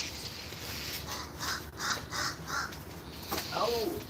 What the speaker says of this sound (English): y'all hear the raven?